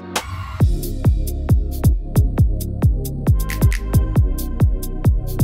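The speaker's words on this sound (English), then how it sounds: "let's finish this up with a fun Jersey Club switch up, because we know how much K-pop loves to use that kick pattern." Jersey Club beat switch-up built on a bouncy, regular kick pattern, with booming kicks hitting in a steady syncopated rhythm under bright percussive hits and synth layers, loud and close with no voices.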